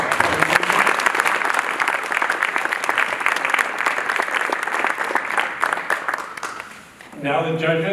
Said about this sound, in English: So let's give another round of applause for all of our groups.